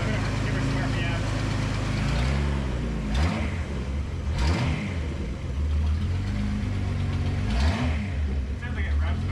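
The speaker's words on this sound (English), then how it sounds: "It sounds like it revs better. It revs faster." Datsun 280Z engine revving after a ignition timing adjustment, several quick throttle blips rising and falling over a steady idle rumble, close and loud, with people talking over it.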